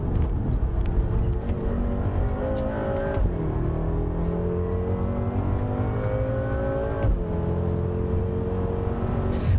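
A 2014 BMW M6 Gran Coupé driving a winding mountain road, its engine note rising and falling with gear changes and revving as it accelerates out of bends, heard continuously from close by.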